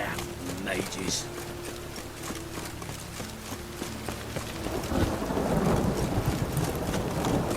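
Rain falls steadily while thunder rumbles in The Witcher 3: Wild Hunt, building louder toward the end, with hoof-like clopping early on and voices in the background.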